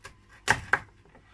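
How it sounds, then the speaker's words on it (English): A kitchen knife chops food on a board while steak with parsnip mash is prepared: two sharp, close knocks about a quarter second apart, then quiet. "so you'll see how I'm actually chopping"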